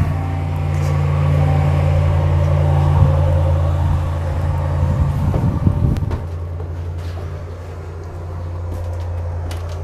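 A truck engine runs steadily after being started, a low continuous drone with a brief rougher surge midway, then settling to a quieter even hum with no voices.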